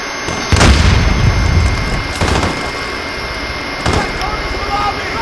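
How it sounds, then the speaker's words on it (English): A grenade explodes close by in the first-person shooter Call of Duty: Modern Warfare (2019), with several heavy booms over a constant roar of game noise. "that grenade is too close, too close, too close"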